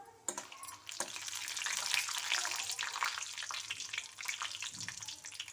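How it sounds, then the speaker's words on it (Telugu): Three dried red chillies fry in hot oil with a little urad dal, the tempering for a coconut chutney. A continuous bright sizzle with scattered crackles holds steady at moderate loudness, with no talking. "ఇందులో ఒక 3 ఎండుమిరపకాయలు వేసుకోవాలి. ఇవి కాస్త ఫ్రై అవ్వాలన్నమాట."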